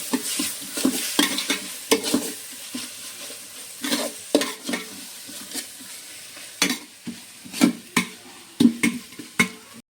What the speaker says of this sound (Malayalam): ഇട്ടിട്ടുള്ള ഇഞ്ചിയും വെളുത്തുള്ളി ഇളക്കി കൊടുക്കാം